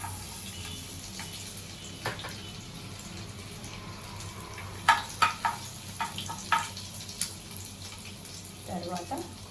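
Garlic pieces drop into hot oil among vegetable pieces for a vegetable idli salad, raising a low sizzle with a burst of clinks and scrapes midway as the pan is stirred.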